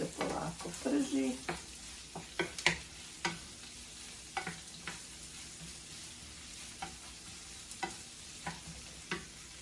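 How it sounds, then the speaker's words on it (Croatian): Onion frying slowly in a pan: a quiet, continuous sizzle with scattered sharp clicks and scrapes from a utensil stirring at irregular intervals. "Evo luk se polako prži."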